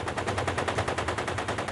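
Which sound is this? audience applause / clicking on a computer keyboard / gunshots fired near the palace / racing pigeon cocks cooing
gunshots fired near the palace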